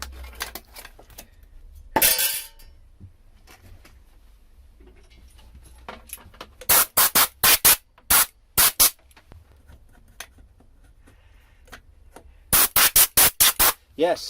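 An air compressor in a workshop gives loud, close hissing bursts of blown air, one early and then rapid clusters of short blasts, with quiet gaps between them and a brief spoken word.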